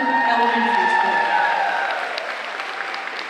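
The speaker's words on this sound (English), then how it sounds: "you're good to give her a round of applause, Brockington." An elementary school group claps at a back-to-school convocation in a broad, sustained round that eases slightly toward the end, with a sustained tone sounding over it at the start.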